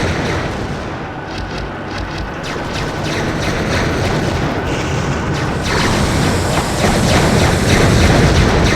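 Laser-guided rockets in the WWE Crush Hour vehicle combat game fire and blast amid a loud, continuous rumble of explosions and booming impacts, with dense layered crashes throughout.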